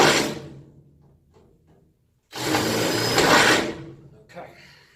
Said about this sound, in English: I'm going to do a couple starter holes here for when I stick my tin snips in.